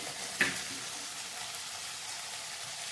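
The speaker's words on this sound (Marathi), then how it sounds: "तेलात भाजून घेऊया आपण 1 मिनिट" Mixed vegetables sizzle in hot oil in a pan for a traditional Bhogi vegetable dish, giving a steady, moderately loud crackling hiss with a brief louder pop near the start.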